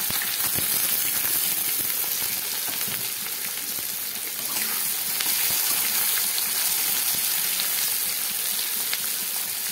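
Onions sizzle and fry in hot oil in a wok with tempered bay leaves and garam masala, a steady, close crackling hiss running unbroken throughout with no voices.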